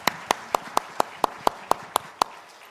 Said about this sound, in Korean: 영광의 하나님께 박수 올려드리겠습니다